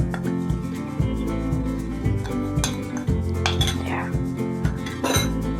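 Eggless chocolate cake batter being whisked in a bowl makes a steady, rapid scraping and clinking of the whisk against the bowl, continuous and close, with no talk.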